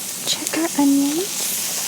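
Onions frying in a pan give a steady, soft hiss of sizzling up close, while a voice speaks briefly over it.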